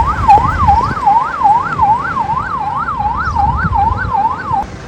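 An ambulance in Dubai, checked before shipment to Jamaica, sounds its siren. It is a loud, close electronic wail that rises and falls in a fast, even warble, held steadily for nearly five seconds.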